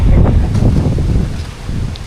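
Steady wind gusting and roaring against the microphone outdoors on a mountain as a typhoon approaches, a low continuous rumble with slight rises and falls.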